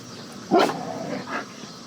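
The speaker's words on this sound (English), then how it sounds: "Luna, you don't need to bark at him." A pet dog indoors gives one sharp, close bark, then a softer second yip about a second later, over quiet room tone.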